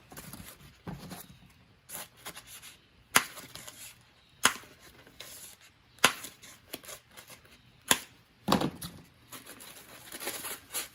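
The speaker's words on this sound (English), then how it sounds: "I think I got to cut mine a little bit farther." Irregular sharp snips and crisp clicks from cutting a foam pool-noodle rocket, spaced a second or so apart, close and fairly quiet with no talking.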